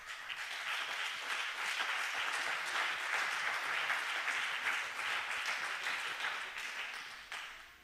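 A church congregation applauds in praise, a dense and steady wash of many hands clapping at moderate distance for several seconds, fading slightly at the end.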